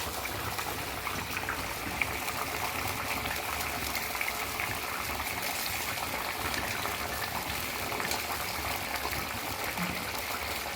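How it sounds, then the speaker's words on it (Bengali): Liquid for a fish and cauliflower curry boiling steadily in a pot, a continuous bubbling simmer heard close, with a faint voice now and then. "বন্ধুরা এটা আমার ফুটে গিয়েছে, এবার আমি এর মধ্যে মাছগুলো দিয়ে দেবো।"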